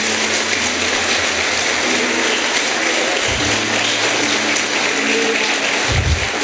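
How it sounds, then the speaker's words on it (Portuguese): A church congregation claps in a broad, sustained wash of applause, with a few low thumps and murmurs mixed into the steady noise. "Você pode aplaudir ao Senhor?"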